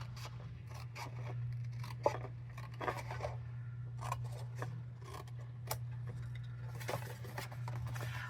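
Scissors snipping through paper card for a Stampin' Up! blossoms box, a series of quiet, close crisp cuts and rustles over a steady low hum.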